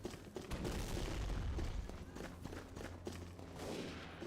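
Video-game grenades go off in a rapid run of booming blasts and thuds that overlap into a dense, loud barrage, with sharper cracks scattered through it.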